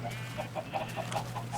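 Repeated soft clucks from chickens in a video game coop, a steady run of short calls over a constant low background hum.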